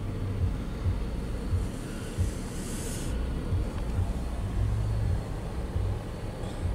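Car driving through the historic centre of Fredericksburg, a steady low road rumble with tyre hiss that stays continuous and fairly close throughout, with no talk.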